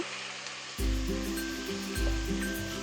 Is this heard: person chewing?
no